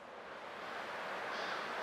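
Ocean waves in Honkai: Star Rail come as a soft, steady wash of surf that swells a little. The sound is faint and continuous, with no voices.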